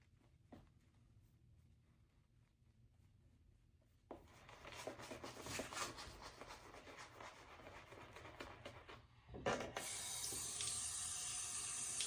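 Quiet handling sounds give way to water running from a tap into a shaving bowl, a steady close splashing flow that grows brighter and louder near the end.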